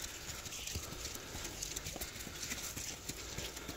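Mares being sold at a market walk along with a quick, steady clip-clop of hooves, close and continuous, over faint background noise.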